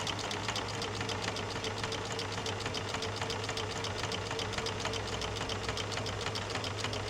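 A Baby Lock serger runs steadily, feeding fabric into bias binding with a single needle, producing a continuous fast mechanical whir with rapid stitching ticks and a low motor hum, close and unbroken with no talking.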